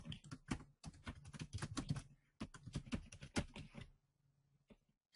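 Rapid clattering keystrokes on a computer keyboard in a software testing session, dense and close for about four seconds, then falling off into near silence.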